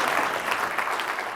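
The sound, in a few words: audience applause at a conference session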